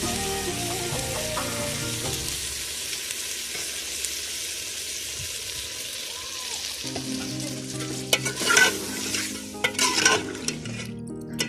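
Potatoes fry in a pan over a wood fire outdoors in a village, a steady loud sizzle with scraping stirs and occasional clanks of the utensil against the pan.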